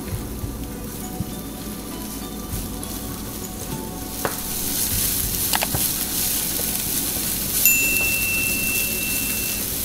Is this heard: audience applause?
no